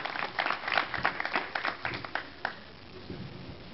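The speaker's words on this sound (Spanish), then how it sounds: "Dale un aplauso al Señor." A church congregation claps in a brief round of applause, with quick, uneven hand claps clustered close together that trail off and thin out near the end.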